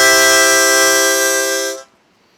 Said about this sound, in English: then we put our harmonica up to our mouth, you'll hear low, middle, and high notes